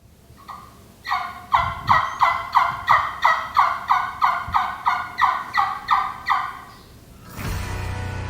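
A turkey mouth call held at the corner of the lip imitates a hen turkey, producing a run of about fifteen evenly spaced, raspy yelps, close and clear, followed by a burst of rustling noise.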